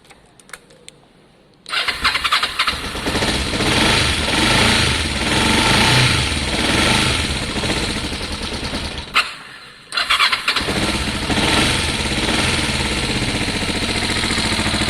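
A Kawasaki ER5 motorcycle engine with a busted side casing cranks over and fires, settling into a loud, steady idle, briefly cutting out and restarting near the end.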